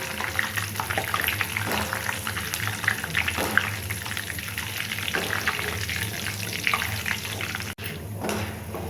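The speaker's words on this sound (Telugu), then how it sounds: "అలానే పుట్నాలు కూడా వేస్తున్నానండి. ఇవి కూడా సిమ్లో పెట్టి ఒక 2 మినిట్స్ వేగితే సరిపోతాయండి." Roasted chana dal frying in oil on a low flame, a steady soft sizzle and crackle running continuously, close by, with occasional light stirring.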